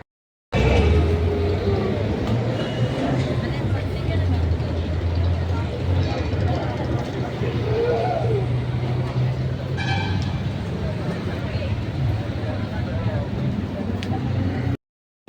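Swargate bus station in Pune, India, hums with idling engines and traffic, with a vehicle horn tooting at intervals and chatter in the background throughout.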